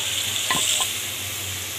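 Ginger-garlic paste and fish masala sautéing in a pan for a Punjabi-style fish dish: a steady, close sizzling hiss with a couple of brief scraping stirs near the middle.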